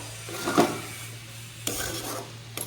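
A spoon stirs vegetables and dalia with salt in a pot, giving soft scraping and rubbing strokes with a couple of light metallic clinks over a steady low hum, and no voices.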